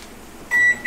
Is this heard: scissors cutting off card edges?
no